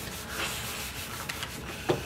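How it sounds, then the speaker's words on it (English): Objects rub together to create friction during a power outage, producing a soft, continuous scraping and sanding-like scratch with a couple of faint knocks, close and steady, with no talking. "We need to rub some stuff together to create friction."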